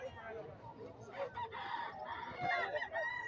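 Gamecocks brought to a sale in the Philippines, with a rooster crowing and clucking amid other fowl, moderately near, under background voices and yard noise.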